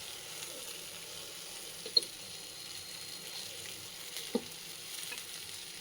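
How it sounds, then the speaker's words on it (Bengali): Capsicum and onion sautéing in a pan make a faint, steady sizzle with two soft clinks of the utensil, heard alone and with no voices. "saute capsicum fry with onion"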